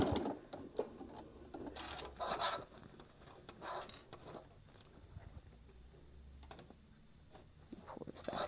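Sewing machine stitching in quick bursts with brief pauses between runs, the motor whir and needle chatter close and fairly quiet, no voices.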